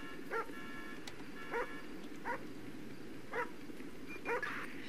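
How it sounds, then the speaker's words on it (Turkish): A dog in the GTA 5 video game barks in short, sharp yips while running, five spaced barks over a steady rumbling background of traffic and engine noise. "Havlayarak koşuyor yani"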